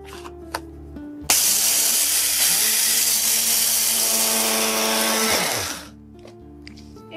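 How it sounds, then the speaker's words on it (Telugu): A kitchen mixer grinder blitzes barley into powder in a steady, loud whir lasting several seconds, starting abruptly and winding down at the end, with no voices over it. "సో ఇలా మనం మిక్సీ జార్లో వేసేసి దీన్ని పౌడర్ ఫామ్లో ప్రిపేర్ చేసేద్దాము."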